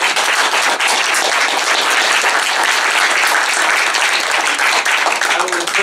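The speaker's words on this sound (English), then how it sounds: "Let's give them a round of applause." Sustained applause from an audience at a historical society's 50th anniversary gathering, dense steady clapping filling the room for several seconds without a break.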